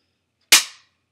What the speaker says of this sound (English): hit the slide release